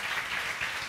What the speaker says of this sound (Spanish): vamos a darle un cálido aplauso al pastor Rey, a la pastora Mildred